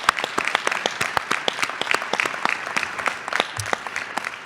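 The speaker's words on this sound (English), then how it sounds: "let's give them a round of applause." An audience at a Veterans Day salute at Muskegon Community College claps in sustained applause, a dense, lively patter of many hands with sharp individual claps standing out, continuing strongly throughout.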